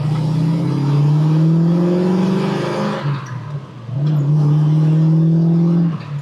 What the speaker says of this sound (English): I'm gonna go just a little bit further here, Quincy. I'm in 2nd gear